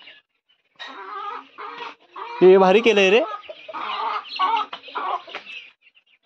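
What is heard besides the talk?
chickens clucking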